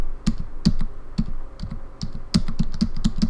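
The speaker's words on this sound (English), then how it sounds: "If you listen to the keys when I'm going left and right," Computer keyboard keys tapped in quick irregular bursts while steering a character left and right in an indie game, close and crisp clicks with short pauses between groups, no talking.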